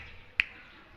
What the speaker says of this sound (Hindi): महाराज ने धीरे से चुटकी बजाई